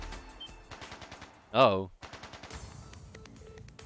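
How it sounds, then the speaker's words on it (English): Rapid gunfire bursts crackle in the distance during a scene in the video game Trails of Cold Steel 3, with a brief loud interjection cutting through midway, then more rattling shots alongside spoken dialogue. "That sound! Gunfire from deeper in."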